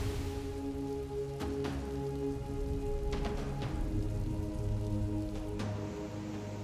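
Heavy monsoon rain pours steadily in the Kumaon hills of Uttarakhand, a dense continuous hiss with scattered louder drops, close and unbroken throughout with no voices.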